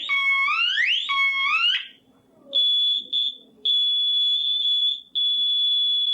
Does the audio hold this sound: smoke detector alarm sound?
yes